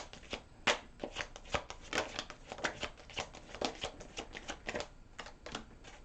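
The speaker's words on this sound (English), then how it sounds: "please give me the cards that Taurus needs for this reading." Tarot cards being shuffled by hand, a steady run of crisp riffling and slapping bursts for about six seconds, close and fairly quiet, with no talking.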